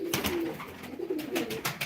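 A male Gökala pigeon coos in low repeated phrases at close range, with soft rustling and faint background noise.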